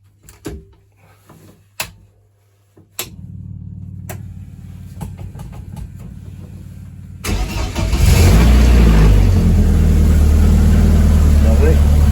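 A BMW M44 four-cylinder engine in an E30 rally car being test-started after fitting: a few clunks and a cranking starter, then the engine catches and settles into a loud, steady idle close by.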